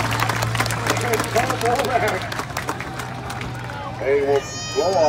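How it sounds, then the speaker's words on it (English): Crowd clapping and cheering at an ATV racing time trial event, scattered applause under an announcer talking over a loudspeaker, with a steady low hum throughout. "Give a big round of applause, ladies and gentlemen."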